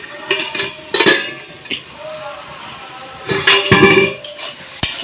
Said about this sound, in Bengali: তিন মিনিট পর ঢাকাটা খুলে নিচ্ছি